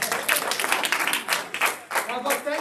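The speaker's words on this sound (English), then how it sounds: "A round of applause for me." Round of applause from an audience at a business roadshow event in Cape Town, uneven bursts of clapping close by, mixed with voices talking over it.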